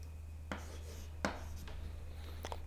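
Marker or chalk writing an equation on a board, a few faint scratchy strokes and taps over a steady low electrical hum, no talk.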